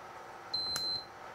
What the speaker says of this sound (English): And it beeps like it's supposed to.